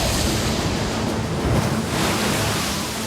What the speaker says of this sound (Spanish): Son olas gigantes que viajan más rápido que un jet y pueden cruzar océanos enteros en solo unas horas.